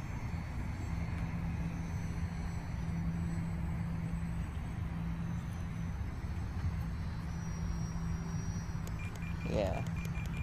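An F4U Corsair V2 800mm RC model airplane on its maiden flight after takeoff, a steady, even motor drone with a faint high whine that holds level throughout, with voices talking at moments.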